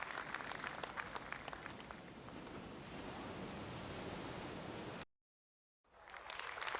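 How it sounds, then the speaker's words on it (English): Dense, steady clapping from a golf crowd at the final hole of the AT&T Pebble Beach Pro-Am rattles on for several seconds, drops out briefly to silence, then resumes. "good applause here for this final hole."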